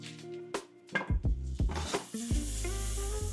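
Butter and olive oil sizzle in a pan while fish is cooked after an inshore redfish catch, with steady frying hiss broken by clinks and scrapes of a utensil stirring against the pan, close and with no talk.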